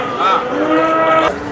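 A water buffalo at the Sangola buffalo market gives one loud, close moo lasting just over a second, its drawn-out call rising and then falling before it cuts off.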